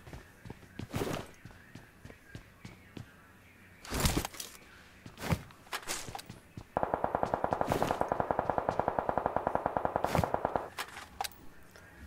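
Video-game gunfire: scattered single shots and short bursts, then a sustained rapid automatic volley of several seconds, fairly close and sharp.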